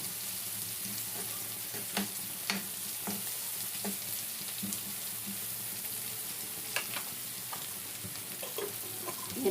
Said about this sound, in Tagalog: Kasi mas masarap ang pag nagigisa ng mabuti.